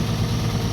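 Dodge AT4 truck engine idling rough with a cylinder misfire, a close low rumbling drone with uneven pulses.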